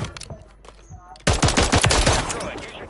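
A legendary gold SMG fires in a video game, a rapid, loud stream of close automatic shots bursting in after a moment of quieter sounds and continuing steadily to the end.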